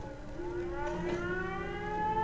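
A steady electronic siren from the video game Fallout 4 wails continuously, its rising and falling tones layered over a constant hum, with no voices.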